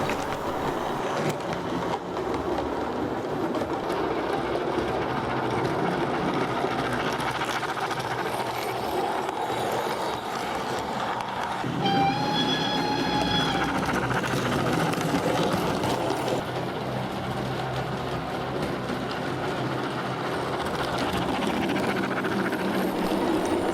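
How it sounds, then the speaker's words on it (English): Model railway train from York pulled by a G5 locomotive rolls past a coaling stage and engine shed, with a soft continuous rumble and clatter under layout noise and a brief whistle-like tone midway. "Just approaching the coaling stage and engine shed at Bryceborough is a through train from York, being pulled by G5 number"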